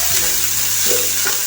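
Onions and meat for a samosa filling fry loudly and close, a dense, continuous sizzle with light stirring and no voices.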